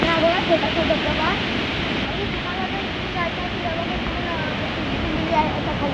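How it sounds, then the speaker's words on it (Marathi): A small waterfall near a Kesarnath temple pours out a steady, full rushing roar that stays loud and constant throughout, with a voice talking faintly over it. "हा बघा छोटासा धबधबा."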